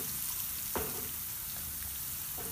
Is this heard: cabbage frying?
yes